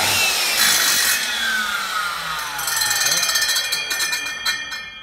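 A circular saw mounted in a homemade 4-in-1 workbench cuts wood, a loud whining blade with rising and falling pitch and rough cutting grain, heard up close.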